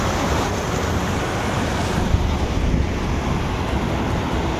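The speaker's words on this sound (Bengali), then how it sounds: "দেখতে গেলে কি সুন্দর জলটা পড়ছে" Water falls steadily at a stream or small waterfall, a broad constant rushing wash heard up close with no pauses and no voices.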